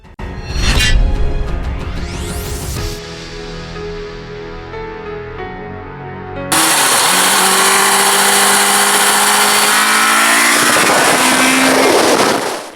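A Suzuki Katana motorcycle with a late-1970s engine revs on an open road, its pitch climbing sharply before settling into a loud, sustained roar that swells again as the bike pulls hard.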